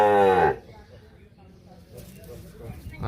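A Sahiwal heifer calf gives a short, loud moo at the start at the Ambari cattle market, followed by quieter shuffling and faint background noise.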